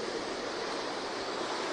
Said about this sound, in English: As you can see, very powerful river.